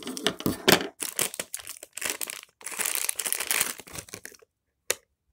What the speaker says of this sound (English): Let's push it all to the bottom and cut open.